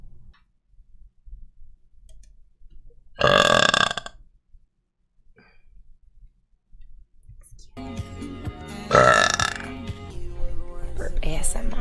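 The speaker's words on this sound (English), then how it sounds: "Burp ASMR." Two loud, long burps sound close up, each lasting under a second and spaced several seconds apart, with quiet breathing and small mouth sounds between them and background music coming in for the second one.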